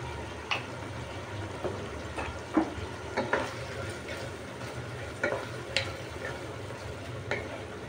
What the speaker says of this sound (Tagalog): Sangkutsa natin mabuti yung ating pusit.